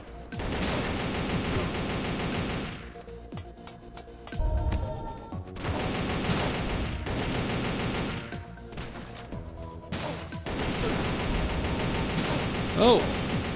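AK-47 bursts and automatic gunfire fill the top-down shooter Geneshift, sustained and loud across most of the stretch, dropping out briefly twice, with game music and effects layered underneath.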